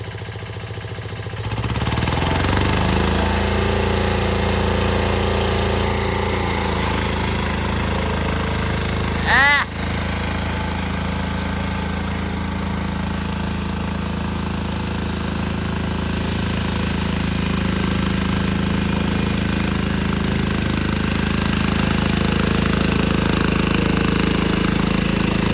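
A tractor engine runs steadily close by on a farm, a loud continuous low rumble and clatter with a brief knock midway, while people talk over it.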